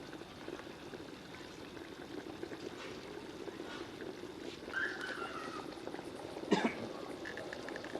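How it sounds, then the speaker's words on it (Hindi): Water coming to a boil in a covered pot for vegetable pulao, a steady low bubbling hiss that runs throughout, with a brief louder clink or splash near the end. "पानी में बॉयल शुरू हो गया है।"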